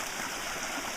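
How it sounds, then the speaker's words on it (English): Water rushes steadily down a mountain waterfall at a bisse damaged by flash flooding, a loud constant roar filling the whole moment. "That's where there's a regular waterfall where the water's escaping."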